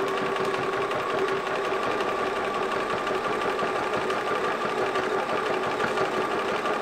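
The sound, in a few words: Bernina 1030 sewing machine sewing a stretch stitch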